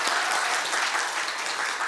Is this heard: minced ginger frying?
no